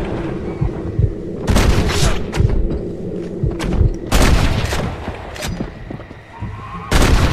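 Gunfire in the video game Red Dead Redemption: several loud, sharp shots crack out at irregular intervals over a rumbling game soundscape, with occasional bursts clustered close together.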